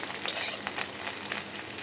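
Potatoes with egg frying in a pan, a soft continuous sizzle with light scraping stirs, fairly quiet and close, no voices.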